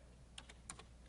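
A few quiet keystrokes on a computer keyboard, two small clusters of soft clicks over a faint room hum.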